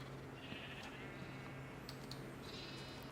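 Faint bleating of sheep in the game Minecraft, including gray and black sheep being bred, with a couple of short, soft calls over a quiet, steady background hum.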